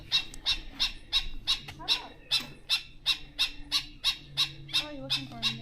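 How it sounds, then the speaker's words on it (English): A bird screams repeatedly on a hike through a coastal nature reserve in Puerto Rico, with about a dozen sharp, evenly spaced calls that ring out loud and close, while a person murmurs faintly beneath them. "Look at that bird screaming."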